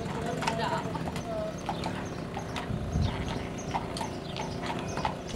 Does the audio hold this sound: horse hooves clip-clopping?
yes